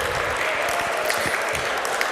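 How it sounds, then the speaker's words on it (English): An audience at a startup pitch event applauds as a speaker takes the stage, a steady wash of clapping that fills the room at even loudness for a couple of seconds. "Round of applause, everybody."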